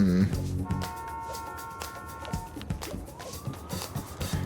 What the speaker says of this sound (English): you hear the police sirens?